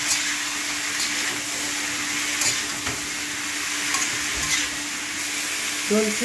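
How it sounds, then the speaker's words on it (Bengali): Cauliflower florets frying in oil in a pan, a steady hissing sizzle with occasional stirring scrapes, close and continuous, with a brief word of speech. "গোবিটা খানিকক্ষণ ফ্রাই হবে, একটু জাস্ট লাল হবে"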